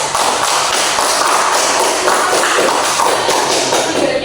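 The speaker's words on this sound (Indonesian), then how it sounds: "kita beri tepuk tangan dulu untuk kelompok 1." Classroom of students clapping together for a presenting group, a dense, steady patter of many hands heard up close for several seconds with no talking over it.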